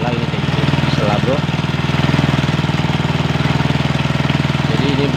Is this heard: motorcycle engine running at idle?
yes